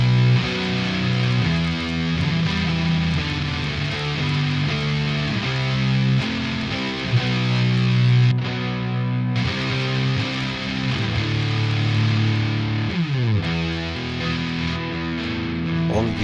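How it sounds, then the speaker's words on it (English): Electric guitar played through a free amp-simulation plugin with the amp's own distortion, giving a thick, saturated, tube-like tone; sustained chords and riffs ring out loud and continuous with no talking. "You can play with the distortion of the amp."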